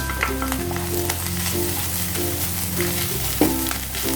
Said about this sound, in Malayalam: ഉലുവ ഒന്ന് ചൂടായി വരുമ്പോൾ നമുക്ക് നാളികേരം ആഡ് ചെയ്യാം.